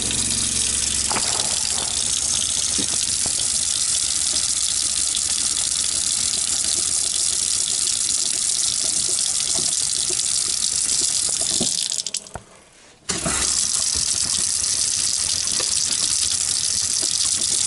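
Water runs steadily from the faucet of an RV's fresh water system, a continuous close rushing gush that breaks off briefly near the end and then resumes, with no talking.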